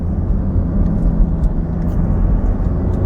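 Loud, continuous engine and tyre drone of a car driving along a rural road in Thailand, heard from inside, steady with small bumps and no voices.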